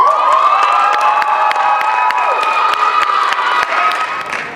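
An audience at a spoken word showcase cheers and claps for a poet, a loud mix of shouts and whoops over steady applause that tapers slightly near the end.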